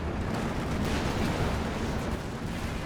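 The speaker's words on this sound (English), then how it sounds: "It looks like we have an airstrike coming on in." Airstrike explosions in Company of Heroes 2 rumble as a dense, continuous roar of blasts and debris, heavy low-end booming that stays loud throughout with no voices.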